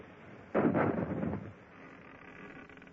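Ship's cannon fire in a naval battle scene: a single heavy, muffled boom erupts suddenly and rolls away over about a second, then a low rumbling tail fades into quiet.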